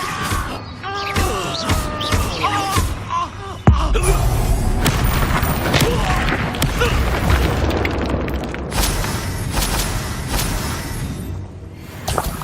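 Spell explosions from the Hogwarts Legacy video game boom and crash repeatedly in a dense, loud, continuous barrage of bursts.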